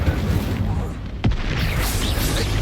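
A single blast from the Expulso explosion spell in Hogwarts Legacy lands as a sharp boom midway, standing out over a busy bed of game combat noise and effects.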